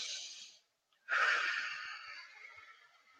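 A woman draws a deep breath in during a calm reflective moment, a long airy inhalation that starts sharply after a brief pause and slowly fades, following a softer breath sound before it.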